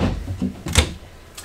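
A drawer in the kitchen of a 2021 Keystone Springdale 296BH travel trailer slides and knocks shut, giving a few soft rattles and then one sharper thud, close by in a quiet room.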